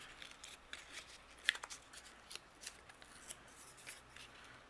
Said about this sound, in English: So what I'm going to do is trim a little bit more off this top corner.